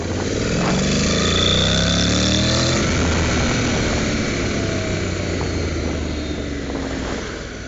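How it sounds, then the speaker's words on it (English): A motorcycle engine growls steadily and loudly for several seconds, a rough throaty drone with a slight rise early on. "Listen to the growl of that engine."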